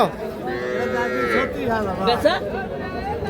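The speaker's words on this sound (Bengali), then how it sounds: "দেখছেন বাছুরে বাছুর চতুর্পাশে শুধু বাছুর" Calves at a busy cattle market, one close, drawn-out moo followed by shorter bellows, with people talking nearby.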